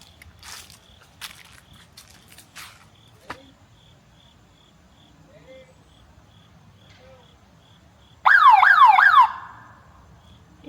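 An old outdoor warning siren, left mounted up high and sounding right outside, blares in a loud rising and falling wail for about a second near the end, after quiet background with crickets chirping.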